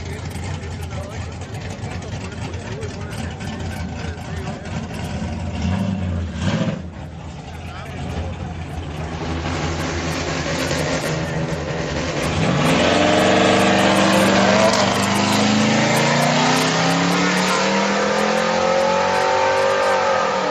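Street cars racing on a Friday night street car night at HMP, an EcoBoost Mustang among them, engines revving and accelerating loudly past with rising pitch and a crowd voice talking over the roar.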